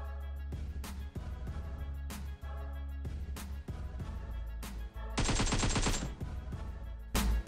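Rapid bursts of gunfire ring out in the mobile battle royale game PUBG Mobile, sharp repeated shots in quick rhythmic volleys, with a dense fusillade near the end, loud and close over a steady game soundtrack.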